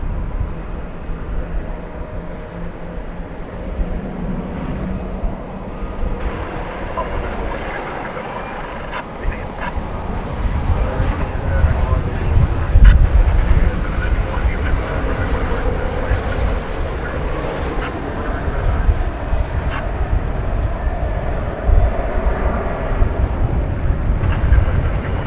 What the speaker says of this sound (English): Next plane to arrive is American Flight 2024. It'll be an A321 emanating from Los Angeles.